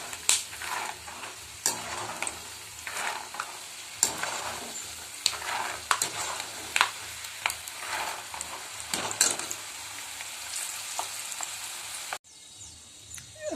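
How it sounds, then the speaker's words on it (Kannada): Peanuts deep-fry in oil over a low flame for garlic churumuri, a soft continuous sizzle broken by repeated scraping and stirring strokes of a spoon against the pan. "ಲೋ ಫ್ಲೇಮಲ್ಲಿ ಕ್ಲೀನಾಗಿ ಕೈ ಆಡಿಸ್ತಾ ಇದನ್ನು ನಾವೇನು ಮಾಡಬೇಕು, ಡೀಪ್ ಫ್ರೈ ಮಾಡ್ಕೋಬೇಕು"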